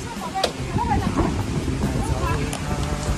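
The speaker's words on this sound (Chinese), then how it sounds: "这会儿外面大风" Strong wind buffeting a parked motorhome on the Inner Mongolian grassland near Baotou, a steady low rumbling roar with gusty swells heard from inside the vehicle, someone speaking faintly over it.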